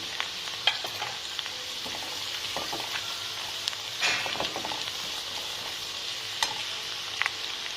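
Onions sizzle and fry steadily in hot oil with a mustard seed and asafoetida tempering for a Marathi brinjal masala, with occasional stirring scrapes over the continuous crackle, close and fairly loud with no talk.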